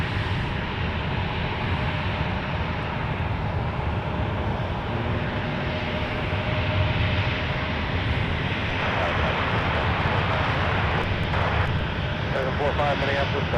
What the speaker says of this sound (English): So this is American Airlines 2942. It's headed to the Queen City of Charlotte,